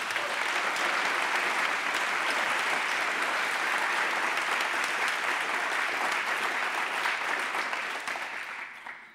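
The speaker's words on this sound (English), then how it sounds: "maybe we owe a round of applause to the organizers" A conference audience at a neuroscience lecture applauds the organizers: dense, steady clapping from a large crowd that holds level for about eight seconds, then tapers off at the end.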